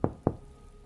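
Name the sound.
knocking on a hotel room door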